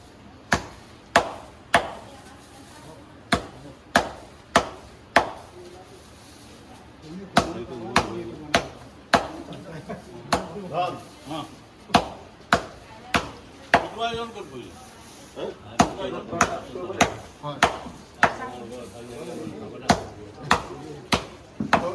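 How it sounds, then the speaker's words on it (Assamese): A blade chops material into small pieces, about 5 to 7 centimetres, for mushroom cultivation. The sharp, hard strikes come close and in a fairly steady rhythm, with a voice speaking in between. "তো ইয়াক মুঠতে মিহি মিহিকৈ কাটিব লাগে"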